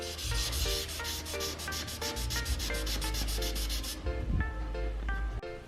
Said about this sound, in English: So you do grab your sandpaper, you just want to use the end to your advantage.